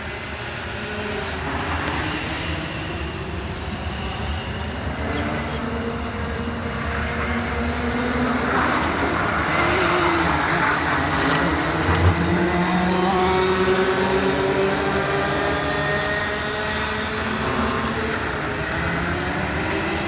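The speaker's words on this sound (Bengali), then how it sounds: "গাড়িগুলো কত স্পিড দেখছেন অনেক স্পিড গাড়িগুলো" Fast cars rush past on a Dubai road in light rain, a steady broad roar of tyres and engines that swells and fades as vehicles go by, continuous throughout with no voices.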